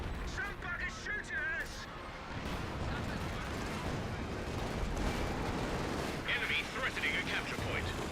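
Gunfire rattles steadily in the video game Company of Heroes 2, a dense, continuous battlefield din with distant shots and impacts, while a commentator talks over it.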